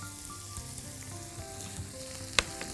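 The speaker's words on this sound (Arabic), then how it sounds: "وهنحط معاها دلوقتي البصلة، بصلة صغيرة اهي كده، تمام، تقلبتين، ونحط معاها الثوم" Onion and garlic frying in a pan, a continuous close sizzle with a sharp clatter of the pan or utensil near the end.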